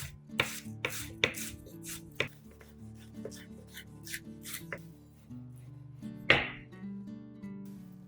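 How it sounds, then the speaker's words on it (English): Green onions are sliced on a cutting board with a knife, giving crisp, irregular taps, some in quick clusters and one louder chop near the end, close and clear over a quiet kitchen background. "I chop some green onions and sprinkle them on top"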